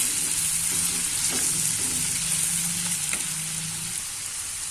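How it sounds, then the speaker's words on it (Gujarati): Food sizzles steadily in a hot pan as spices are mixed into bottle gourd curry, a utensil stirring and scraping through it, close and constant, with no talking. "બધું મિક્સ કરી લેશું આ રીતના બધું મિક્સ કરી લેશું આપણે"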